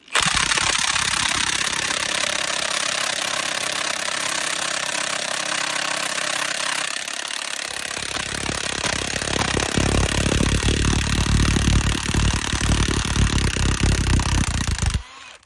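A Milwaukee impact wrench hammers loudly on the front brake bolts of a 2001 International truck, a steady rattling burst for about seven seconds followed by a second, rougher run that cuts off near the end.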